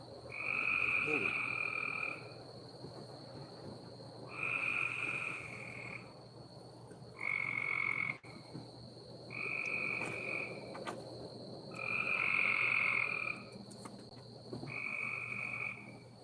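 Frogs croak in repeated loud bursts of roughly one to two seconds each, six calls with short gaps between them, alone with no talk over them.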